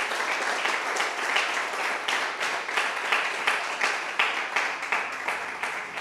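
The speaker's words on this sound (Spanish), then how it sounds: "Denle un aplauso al Señor por eso." Church congregation breaks into applause for the Lord during a sermon, a steady, moderately loud crowd clapping that continues evenly with faint rhythmic pulses and no speech over it.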